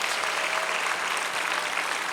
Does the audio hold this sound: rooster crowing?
no